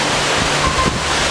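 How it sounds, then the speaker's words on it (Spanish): Strong wind blows steadily at the Juan Curí waterfall, a loud broadband rush buffeting the microphone with low rumbling gusts throughout. "Acá da la sombra y corre mucho, mucho aire."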